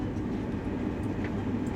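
A TGV high-speed train rumbles past as a steady low, heavy rolling roar, brief and fairly close.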